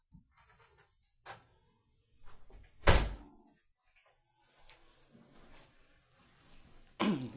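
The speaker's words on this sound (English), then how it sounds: "Let me go shut the door." An indoor door swung shut with a single solid thud near the middle, followed by a softer knock at the end, amid faint room noise and small shuffling sounds.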